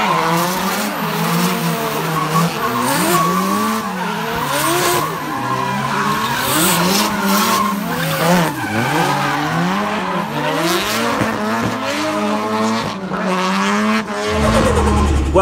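A Nissan S13 drift car at a D1NZ drift event slides with loud, sustained tire squeal over a wavering, revving engine, close and continuous throughout.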